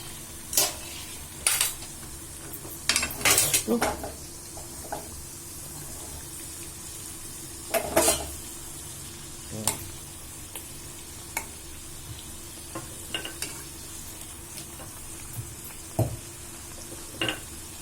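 Puri frying and puffing in hot oil, a soft continuous bubbling sizzle broken by sharp clinks and scrapes of a ladle against the pan, close and without talk.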